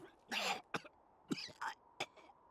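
Several rough, close coughs and throat-clearing bursts come in an uneven series with short pauses between them, from a character in the visual novel game CHAOS;Head NOAH.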